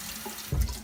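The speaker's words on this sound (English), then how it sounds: "I have the water running so this towel can get a bit warm" Water running from a sink tap to warm a washcloth: a close, steady hiss that swells into a louder splash just past the halfway point.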